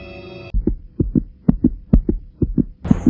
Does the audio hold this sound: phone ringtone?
no